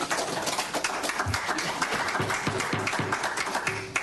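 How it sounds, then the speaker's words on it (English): Applause at a city council meeting, a dense patter of many hands clapping at moderate distance, sustained throughout with faint tonal sounds mixed in. "Please hold the applause"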